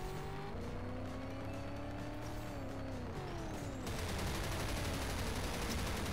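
Futuristic race cars whine at high speed in the combat racing game GRIP, their engine tones climbing steadily. Rattling weapon fire and thumps sound continuously and loudly throughout, with no voices.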